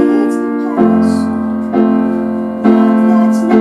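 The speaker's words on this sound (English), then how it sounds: "I'm going to play a block chord on every beat." Piano plays sustained block chords with a fresh chord struck roughly once a second, each attack ringing and decaying before the next. The harmonic sound is clear, close and moderately loud.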